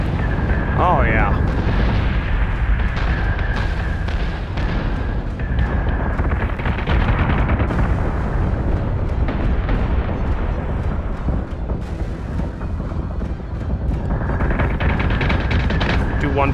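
Starship cannons pound away in a Battlestar Galactica Deadlock space battle, a loud, dense, unbroken barrage of rapid gunfire and booming explosions that fills the whole stretch.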